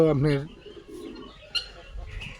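A black-and-white giribaz pigeon coos briefly at the start, a soft throaty burble, followed by faint outdoor background noise with light rustling.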